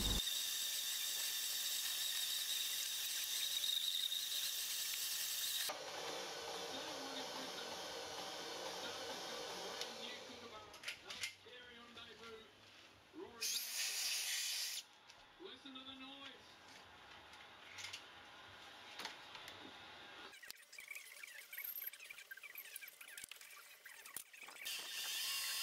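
A small lathe spindle turns under a Chinese-made speed controller while a homemade live centre is machined from a gate hinge, giving a steady motor whine with squeals and ticking tool noises as a person talks over it.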